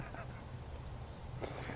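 Canada geese honk faintly in the distance outdoors, a few scattered calls over steady low wind and background noise.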